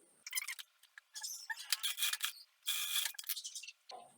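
A sewing machine stitches a seam through two layers of fabric placed right sides together while sewing a pet waste-bag holder, running in several quick mechanical bursts separated by short pauses, close and fairly quiet.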